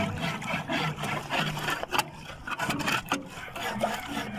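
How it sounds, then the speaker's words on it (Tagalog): A shovel scrapes moss and barnacles off a boat hull at low tide, making rough, gritty strokes close by in an uneven, repeated rhythm. "Sa ngayon ay pinapala lang namin para matanggal yung mga ibang ano, pang lumot, saka sisi."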